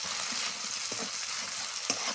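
Kasuri methi, ginger, garlic and tomato fry in a pan with a soft, constant sizzle, broken by a few light stirring scrapes from a spoon; quiet and close, no voices.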